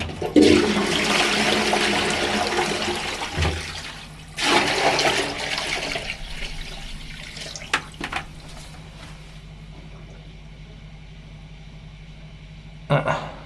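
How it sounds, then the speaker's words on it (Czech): A toilet flushing during a pipe repair where wet wipes have clogged the line: a loud rushing gush of water that fades to a trickle and refill hiss, with another surge near the end and someone talking over parts of it. "Já do toho ještě spláchnu."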